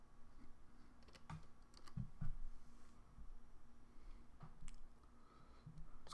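Quick keyboard typing while a web address is entered on a media streamer, soft clustered clicks in short bursts with a louder flurry near the middle, close and fairly faint with no talk.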